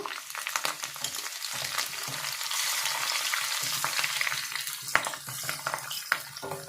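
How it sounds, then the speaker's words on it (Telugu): Leaves drop into hot oil to fry for a homemade hibiscus hair dye oil, giving a steady crackling sizzle with sharp pops and bubbling throughout. "ఇప్పుడు మనం తీసుకున్న ఈ ఆకులన్నీ ఆయిల్ వేసేస్తాము"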